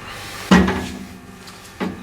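The arm of a tire changer is set in place and locked, giving a sharp mechanical clunk followed by a second, softer knock a moment later, close by.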